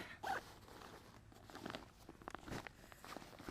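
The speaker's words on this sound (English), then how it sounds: "let's see if I zip this up a little bit." A hiking backpack zipped up near the microphone, a quick zipper rasp followed by soft rustling and light handling noises.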